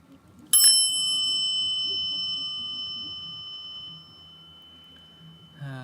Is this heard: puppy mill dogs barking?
no